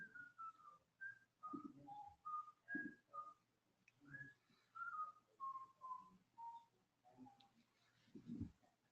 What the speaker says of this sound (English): somebody's whistling it nicely